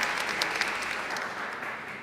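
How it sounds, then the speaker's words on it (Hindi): A talk-show studio audience applauds actor Dino Ali, a brief, full patter of many hands that tapers off gently over two seconds. "तालियां डीनो की।"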